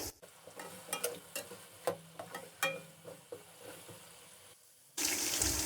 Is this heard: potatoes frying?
yes